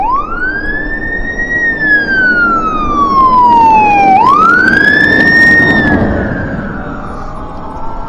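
A loud emergency vehicle siren passes close by on a California road, heard from an electric bike. Its wailing tone rises and falls in long sweeps, then fades slightly as the vehicle moves past, over road and wind noise.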